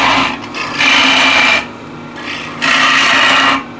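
A woodturning tool scraping across a spinning yew box on the lathe, a steady rasping hiss that swells in two long loud passes with quieter gaps between, close and without talk.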